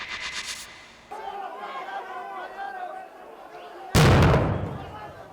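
A loud, sudden blast of a dynamite explosion booms out after a stretch of crowd chatter and voices during a dispute between rival coca growers, its roar rumbling and fading over a second or two.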